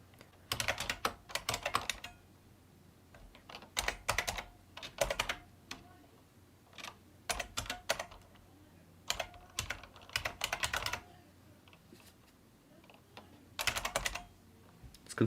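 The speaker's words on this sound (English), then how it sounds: "Let's type it in." A Windows XP product key entered on a computer keyboard: crisp, close keystrokes in quick clusters separated by brief pauses, loud and clear with no talking over them.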